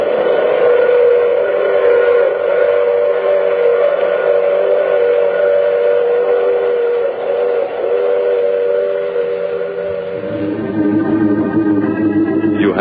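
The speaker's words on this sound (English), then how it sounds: "I take this same train every week at the same time." A train sound effect from an old radio drama gives a sustained, loud, whistle-like chord over a low rolling rumble, and the tone shifts in pitch near the end.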